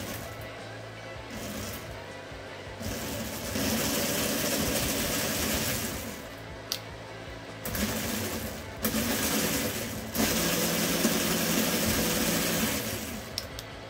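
A homemade electric boat motor on a 48 V, 60 A bench supply with a throttle controller, whirring in close bursts that rise and cut out several times, with short quieter gaps between runs.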